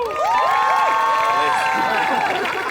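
A studio audience cheers loudly and continuously, with whoops and rising shouted calls over a dense crowd roar lasting the whole moment.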